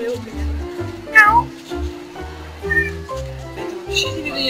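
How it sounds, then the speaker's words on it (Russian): Several cats meow close by in repeated short calls, some drawn out and wailing, while people talk over them. "Смотри, они мяукают."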